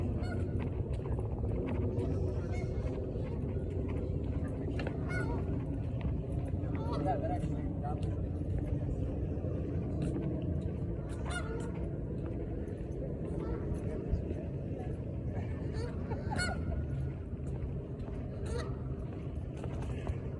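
Geese honk intermittently at moderate distance outdoors amid a constant low background rumble, with faint voices mixed in.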